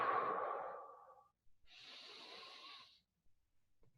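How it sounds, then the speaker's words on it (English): Exhalations during diaphragmatic belly breathing in a low-impact workout: two long, airy breaths out, the first louder and about a second and a half long, the second a steadier, fainter release, with no talking. "And then exhale."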